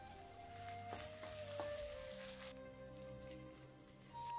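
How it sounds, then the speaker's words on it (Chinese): Garlic and dried shrimp stir-frying in hot oil in a wok give a steady, close sizzle with soft crackling, while faint tonal music runs underneath throughout. "锅中留些底油，倒入蒜米和虾米炒香。"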